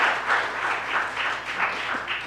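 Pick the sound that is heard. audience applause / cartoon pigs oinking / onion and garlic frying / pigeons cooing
audience applause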